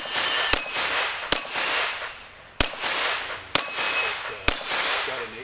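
An eight-shot revolver fires five sharp, loud shots at uneven intervals about a second apart over steady background noise, with no talking between them.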